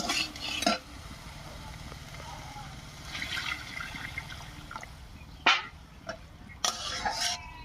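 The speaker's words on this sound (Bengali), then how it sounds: "এবার একটুখানি মশলা বাটা জল দিয়ে ভালো করে কষিয়ে নেব" Vegetables cooked down with ground spice paste and water for a Bengali shukto with thankuni leaves, heard as faint stirring and wet scraping in the pot, with a few louder spoon knocks and quiet background sounds.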